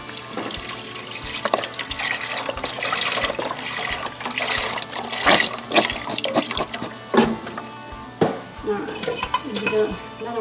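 Chicken broth is poured from a carton into a pot, a continuous rushing, splashing pour with clatters of cookware throughout.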